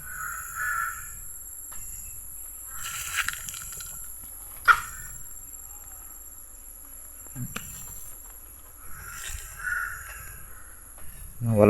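Several crows caw in scattered bursts at a distance over a constant buzz of insects, with quiet gaps between calls.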